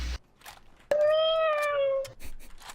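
A person voices a single drawn-out, pained cat meow that rises and then falls, imitating the animal. It sits between quiet pauses.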